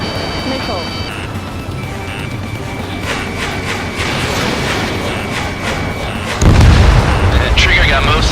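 Missiles launch and explosions boom in the jet combat video game Ace Combat 7, with continuous roaring engine noise, sharp bursts and a heavy low blast near the end, while radio voices talk over it.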